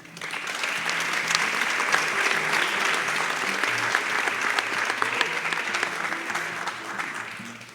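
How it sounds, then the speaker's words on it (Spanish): An audience at a literary round-table event claps in a steady, dense round of applause that lasts about eight seconds. It rises quickly and fades slightly at the close, with faint voices underneath. "es que le diéramos un aplauso."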